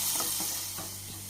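Cut onions sautéing in hot coconut oil for a prawn curry tempering, a steady close sizzle with a few soft stirring scrapes, brief and uninterrupted by voices.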